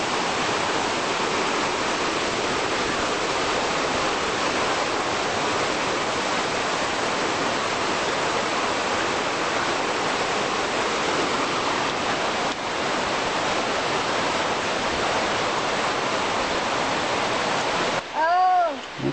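Water rushes steadily in a broad, loud hiss, Big Creek in the Great Smoky Mountains flowing nonstop from start to finish with a brief distinct sound near the end.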